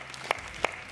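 A brief burst of studio audience applause on a Ramzan iftar television show, a dense patter of clapping with a couple of sharper claps standing out, heard at moderate volume.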